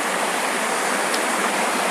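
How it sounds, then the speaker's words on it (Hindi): Water rushes in a steady, full-bodied wash from a swollen mountain stream in a forest near Mukteshwar, heard close with no voices. "पानी बहुत ज़्यादा है आजकल गधेरों में"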